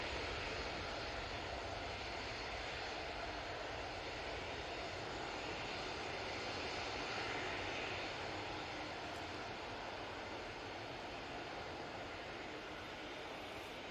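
A Jet2 Boeing 737-800 at Manchester Airport roars continuously on its takeoff roll, a broad steady engine rumble heard from a distance at low level.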